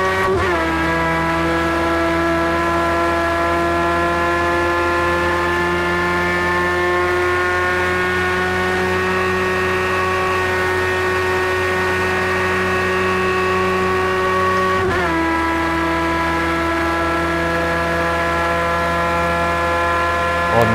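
Aston Martin Vulcan engine in a racing video game, a loud, sustained high-revving howl with strong tonal harmonics that climbs slowly, dips sharply at a shift, then resumes on a single continuous note, with no talk over it.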